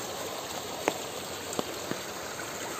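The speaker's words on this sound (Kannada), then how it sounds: "ನಮ್ಮ ತೋಟದ ಸೈಡಲ್ಲಿ ಈ ಥರ ನೀರು ಹೋಗ್ತಾ ಇದೆ ನೋಡಿ." Heavy rainwater rushes along the side of a garden plot, a faint, steady watery wash with a few isolated drips and no talking.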